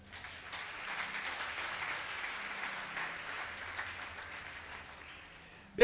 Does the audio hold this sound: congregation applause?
yes